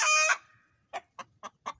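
A leghorn hen that has just laid an egg gives a loud, drawn-out call, then four short, evenly spaced clucks, close by and with no voices.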